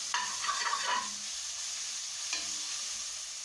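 Ginger garlic paste sizzles steadily in a pan while cooking vegetable kurma, with a couple of quick scraping stirs near the start and again later.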